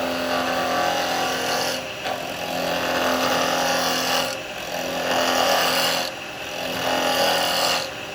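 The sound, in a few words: woodturning tool slicing seasoned wood on a lathe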